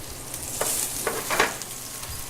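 Shrimp cakes sizzle steadily in hot oil, a continuous bright frying hiss with a few louder crackling bursts, close up and with no talking.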